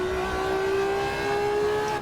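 A Ferrari F50 V12 road car in the Assetto Corsa racing game revs high and steady near 7,500 rpm, a loud, sustained engine note with clear tonal harmonics that holds for about two seconds without talk.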